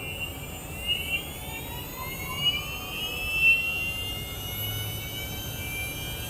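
Aircraft motors on an iron bird test rig spin up and shift pitch under throttle input, a steady whining drone with rising and sliding tones that holds for several seconds.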